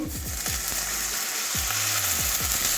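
Loud, steady sizzle of water hitting a frying onion curry for an egg and poppy-seed dish, broad hiss throughout with a few sharp pops and crackles near the pan.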